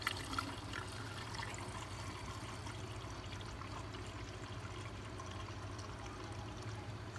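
Old coolant draining during a flush of a Chrysler 300C 3.5L, a quiet steady pouring and trickling of liquid with a low continuous hum beneath, no talk.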